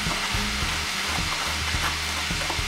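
Meat for a lasagne Bolognese sauce sizzles loudly in a pan, with a steady frying hiss under repeated scraping stirs of a spoon or spatula against the pan.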